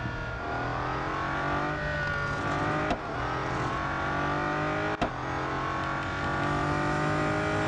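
A Bugatti convertible racing in Real Racing 3, its engine droning at a steady high pitch with a constant loud whine, broken by two brief sharp clicks, with no voices.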